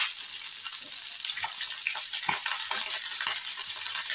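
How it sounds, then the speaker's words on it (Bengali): Cauliflower frying in a pan gives off a steady, close hiss of sizzling oil, with scraping and stirring clicks scattered through it. "ফুলকপিটাও ভালো করে ভেজে নিতে হবে"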